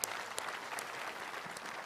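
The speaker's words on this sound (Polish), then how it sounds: "Brawa dla was, kochani." Crowd applause greeting foot pilgrims arriving at Jasna Góra after many days of walking, a steady dense clapping that fills the whole stretch at moderate level, with a few sharper claps standing out.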